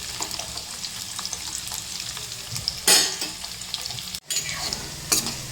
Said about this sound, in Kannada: ಈ ಥರ ಫ್ರೈ ಹಾಕತ್ತವು.